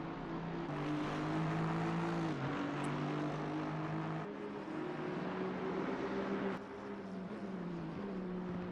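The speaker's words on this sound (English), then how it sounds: "You should be able to hear the cars." Racing cars in a sim racing game at Brands Hatch whine steadily as engine notes rise and drop with gear changes, quiet and continuous, with no talking.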